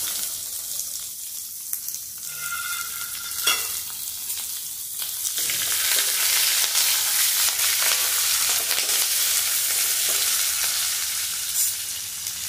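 Chopped onions and green chillies fry in a pan with curry leaves and dried red chillies, a steady loud sizzle that swells midway with a few stirring scrapes early on, no talking.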